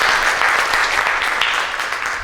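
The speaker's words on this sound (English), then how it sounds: "Let's give him one more round of applause." Audience applause at an Asian American Federation of Florida youth council event, a loud, dense wash of clapping from a crowd, steady and close, slowly fading toward the end without any speech.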